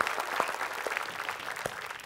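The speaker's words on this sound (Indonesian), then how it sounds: "Tepuk tangan dong buat Fitri Ayu." A studio audience on an Indonesian comedy show claps for a guest named Fitri Ayu, a dense, moderate patter of many hands with a few sharper individual claps standing out.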